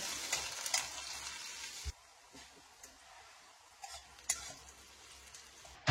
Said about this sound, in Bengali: এবার ওই তেলেতেই দিয়ে দেবো হচ্ছে পেঁয়াজ কুচি, একটা গোটা পেঁয়াজ কুচি দিয়ে পেঁয়াজটাকেও আমি এটাকে লাল লাল করে একটু ভেজে নেব।